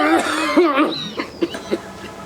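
A man in a comic village drama coughs and clears his throat, with a loud voiced hacking burst mixed with speech-like sounds, then several shorter, softer coughs.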